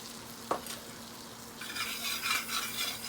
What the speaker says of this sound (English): I just want to sprinkle a little flour on my butter.